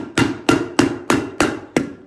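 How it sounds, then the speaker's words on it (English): Carpet padding stapled down to a floor near the tack strips, six sharp, evenly spaced hammer-stapler thwacks, loud and close. "We're going to staple it right down."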